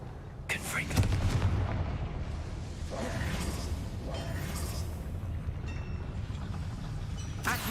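Confringo fire spell blasts in Hogwarts Legacy gameplay, a few booming whooshes bursting over a steady rumbling game soundscape, with a voice speaking briefly.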